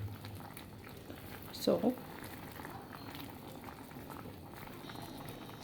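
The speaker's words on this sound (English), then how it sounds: "Just allow it to steam in the juice, the mixture that you have made." Trout and vegetables steaming in a coconut milk mixture in a pot, a low constant bubbling simmer with a brief spoken word partway through.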